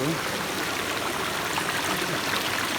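Steady rushing stream water flows continuously through a rocky valley, a broad constant wash of sound with no break, moderately loud and close.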